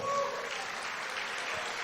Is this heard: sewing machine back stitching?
no